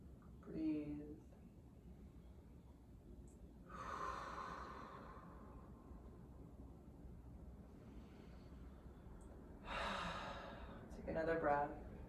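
Deep breaths drawn in and let out during a yoga power flow, a few slow swelling inhales and exhales spaced apart over a quiet room, fairly close and soft.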